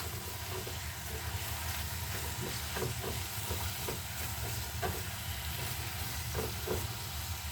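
Zucchini fries in a pan for a courgette and prawn soup with egg noodles, browning as it cooks, giving a steady, close sizzle and hiss. Soft intermittent clicks run through it, and no one speaks.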